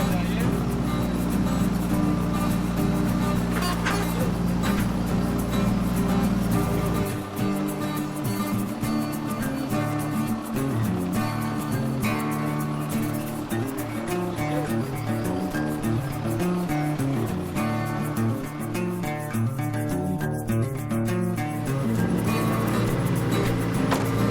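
A Renault Twingo R1 Evo rally car engine revs and roars close by, pitch shifting up and down as it drives, with a deep rumble dropping away partway through.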